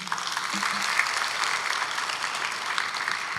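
A church congregation claps steadily in a dense, even wash of applause that holds at the same level throughout, fairly close and full.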